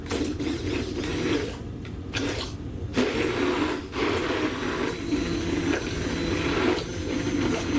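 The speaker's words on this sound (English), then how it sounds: "we're going to use our stick blender" A stick blender whirs in a bowl of French toast batter sweetened with honey, a continuous close buzzing that briefly dips and surges as it mixes, with no talking.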